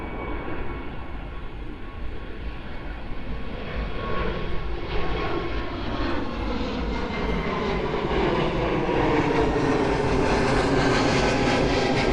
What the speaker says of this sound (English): the 747 hopefully takes a little bit more of a runway